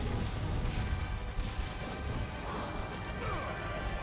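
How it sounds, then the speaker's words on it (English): Chaotic crashes and a heavy booming explosion from combat in the video game God of War, loud bursts layered over a dense, continuous wash of game noise. "I dove right into that explosion."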